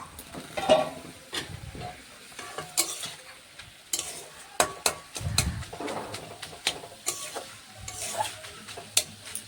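Pointed gourd leaves fry in a pan with a little water, a low sizzle under frequent sharp scrapes and clacks of a spatula being stirred around, close by, with no talk.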